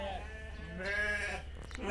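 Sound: sheep bleating at a farm

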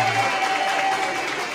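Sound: applause at 80th birthday party

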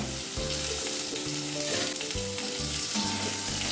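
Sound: tomato added to hot oil in pan, sizzling

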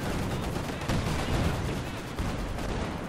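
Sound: gunfire in the video game Company of Heroes 2

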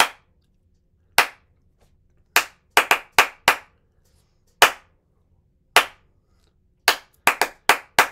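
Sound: hand clapping rhythm of a song intro

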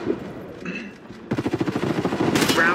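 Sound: gunfire in the video game Warface

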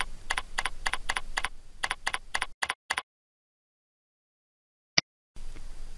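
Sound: typing answers on a computer keyboard

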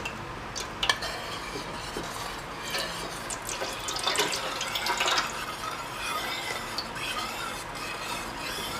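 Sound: pouring yanang leaf juice into the curry pot

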